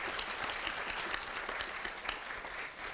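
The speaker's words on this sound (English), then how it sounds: "Can we have a round of applause for that" A conference audience gives sustained applause, a dense even wash of many hands clapping throughout with no talk over it.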